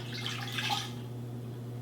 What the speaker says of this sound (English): pour the water with the citric acid in it into my pot